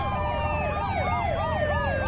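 Police car sirens wail in a scene from The Walking Dead, several overlapping sweeping tones rising and falling steadily, loud and continuous over low background rumble.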